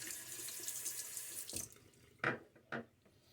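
A bathroom tap runs for rinsing after a shave, a quiet steady hiss of water with two louder splashes near the end as hands cup and rinse under the stream.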